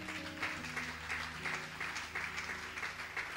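A church congregation applauds steadily throughout, a dense, even wash of many hands clapping at moderate distance, with faint voices and some low sustained tones beneath.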